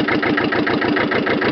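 A Hinomoto E23S compact tractor's diesel engine runs steadily in gear with a close, rhythmic chugging pulse and no voices over it.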